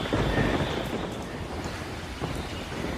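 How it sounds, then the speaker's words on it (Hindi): Heavy rain pours steadily outside in a cartoon scene, a dense, continuous wash of noise with low rumbling underneath, loud and unbroken throughout. "बाहर बारिश और तेज हो जाती है"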